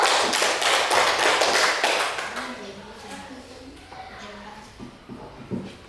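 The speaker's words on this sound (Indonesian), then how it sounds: "Berikan aplaus dulu untuk kelompok 1" Applause for a student group in a primary classroom, a dense burst of many hands clapping for about two seconds, then fading into scattered claps and murmuring voices.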